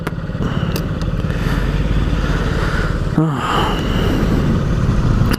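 A Honda Ruckus scooter engine holds steady at the rev limiter, a loud continuous buzzing drone close by, with a brief thud and a shift in pitch partway through.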